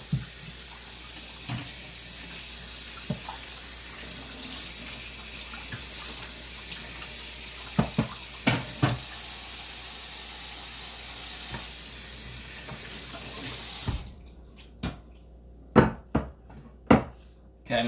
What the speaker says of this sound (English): Let me rinse off my cutting board.